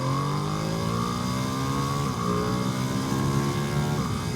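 Ducati Panigale V2 twin-cylinder motorcycle engine revs loud and steady, pitch climbing through the rev range with a brief dip near the middle and another near the end.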